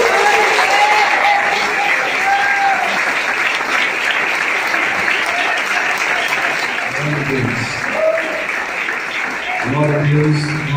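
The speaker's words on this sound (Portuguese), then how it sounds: "aplaudindo Jesus." A church congregation applauds steadily and loudly as a preacher is welcomed, dense clapping filling the space throughout, with a few voices rising beneath it near the end.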